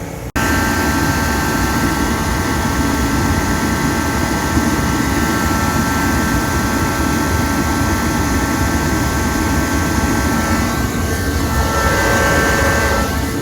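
A DeWalt 215,000 BTU jet heater running steadily, a loud constant roaring blast with a whining tone layered in, starting abruptly and holding without a break.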